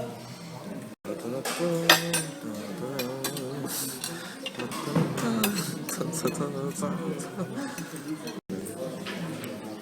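Rice and noodles are served onto plates with cutlery at home, giving repeated light clinks and scrapes of metal on dishes under ongoing talk.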